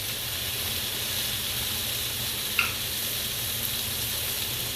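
Butter sizzles and hisses steadily in a pan with onions and peppers while salmon cakes are being prepared, a constant close frying crackle with one small pop midway and no voices.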